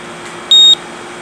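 A Parazapper UZI 3 device lets out one short, high-pitched electronic beep as it is switched on, clear over a faint steady background hum.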